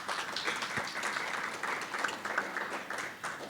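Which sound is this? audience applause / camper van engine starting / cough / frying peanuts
audience applause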